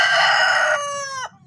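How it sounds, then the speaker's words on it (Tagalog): A rooster crows once, loud and close, a long ringing cock-a-doodle-doo that trails off abruptly. "lakas ng tilaok ng manok dito sa aking location"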